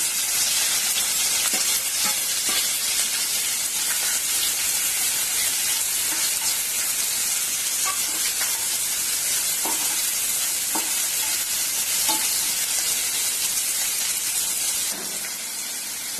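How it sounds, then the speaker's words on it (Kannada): Onions fry in a pan with two green chillies and curry leaves for a bottle gourd palya, a steady loud sizzle broken by spatula clicks and stirring scrapes, easing slightly near the end. "ಈರುಳ್ಳಿ ಚೆನ್ನಾಗಿ ಫ್ರೈ ಆಗುತ್ತೆ"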